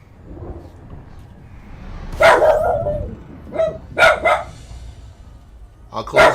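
A small dog barks repeatedly in short clusters indoors, loud and near, while someone talks intermittently between the barks.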